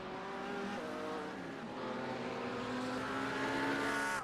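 Red McLaren race car, number 853, running through the chicane at the 24 Hours of Zolder, engine note droning steadily with shifting pitch and a slight tire squeal, loud and close throughout.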